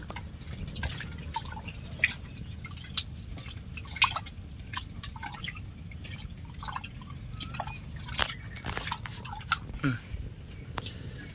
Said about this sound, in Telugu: ఇడి నీళ్ళ తర్వాత మళ్ళీ పోసుకొని కలుపుకుంటున్నాను అండి చింతపండు